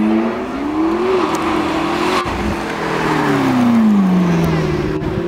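A remapped Audi RS6 with a race exhaust rumbles loudly at a supercar weekend at Beaulieu, its engine note rising and falling through sustained revs close by.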